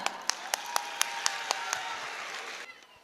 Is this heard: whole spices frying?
no